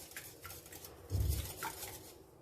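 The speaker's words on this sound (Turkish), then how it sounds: "Güzelce çırpıyorum." Whisking a mixture of egg yolk in a bowl for a creamy spinach börek filling; soft, quiet scraping and clinking of a whisk against the bowl with a brief louder swirl near the middle.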